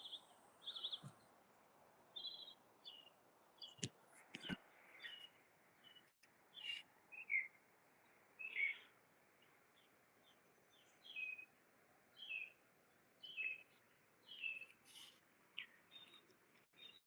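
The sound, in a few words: birds chirping and singing in a garden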